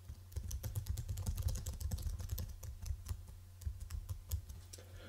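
A subtitle goes into a PowerPoint slide through a flurry of computer keyboard strokes, close and steady tapping with brief pauses over a faint hum, no voices present.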